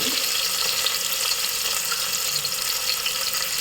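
Onions frying in a pan for Mandya-style boti gojju give a steady, dense sizzle that holds even and unbroken throughout, with no voices.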